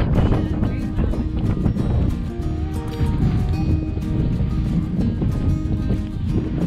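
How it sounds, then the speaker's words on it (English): Gusty wind blows steadily across the microphone outdoors at a pumpkin patch, a loud continuous rumble with no pauses throughout. "It is windy."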